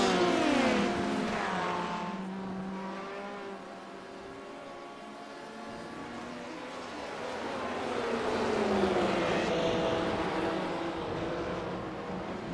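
Race cars in a sim racing game at Road Atlanta, a third-place LMP battle of several prototypes, roar past with engine notes sweeping up and down as they approach and recede, loud and steady throughout.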